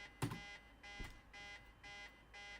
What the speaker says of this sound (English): I just realized it was beeping.